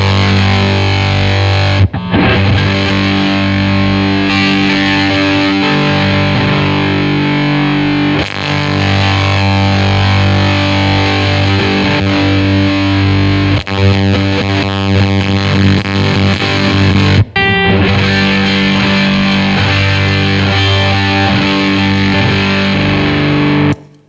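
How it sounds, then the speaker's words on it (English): Electric guitar through an Old Blood Noise Endeavors Haunt Fuzz pedal with the gate fully up and fuzz at 3, a thick, loud, saturated wash of sustained chords and notes with a couple of abrupt cut-offs, no voices. "I'm going to leave the gate all the way up and leave the fuzz where it's at 3."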